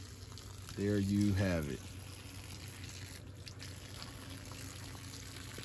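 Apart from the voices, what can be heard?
running water being turned off soon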